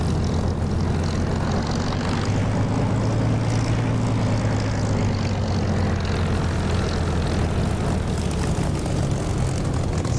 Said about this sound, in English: I'm going to move on to this taxiway and take off again from here.